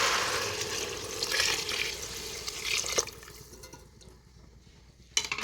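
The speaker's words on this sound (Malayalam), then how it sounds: "സ്റ്റോക്ക് ഒഴിച്ച് കൊടുക്കാം കേട്ടോ" Stock poured into a rice cooker for prawn biryani makes a continuous splashing, gurgling stream that thins out partway through, followed by a few drips and a final splash, with no voices.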